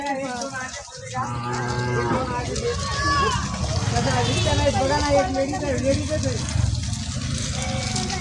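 Deep, drawn-out moos from a bull ring out repeatedly and loudly over a busy, noisy outdoor background in the hills.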